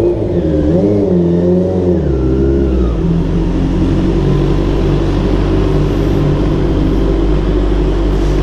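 Honda CBR650R motorcycle riding through city streets, engine note rising and shifting in the opening seconds, then a steady loud drone of engine and wind; no talking.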